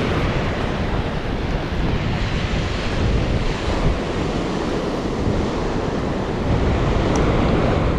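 Ocean surf rolls onto the sand at Salinas River State Beach, a steady broadband wash of breaking waves mixed with gusty wind buffeting the microphone, continuous and fairly loud with no voices.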